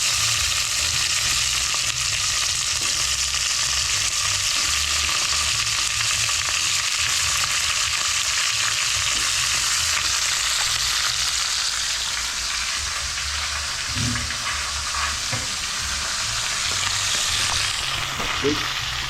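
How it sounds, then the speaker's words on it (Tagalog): A salmon head sizzles and fries in fish sauce in a pan, with a steady, loud crackle that runs throughout and is occasionally stirred. "Sasangkot ka natin sa patis."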